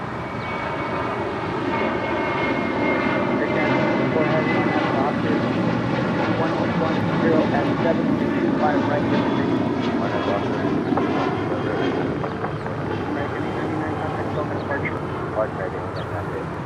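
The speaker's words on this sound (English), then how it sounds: "Next departure is American Airlines flight 899 heading to Phoenix, Arizona in a 737-800." American Airlines Boeing 737-800 departing LAX on a flight to Phoenix, a loud, sustained jet engine roar with a broad rumble and rising whine, steady throughout, with voices talking over it.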